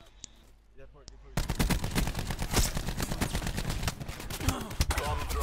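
Rapid gunfire in a Search and Destroy match of a first-person shooter video game on the Firing Range map, loud sharp reports in dense bursts after a quieter opening.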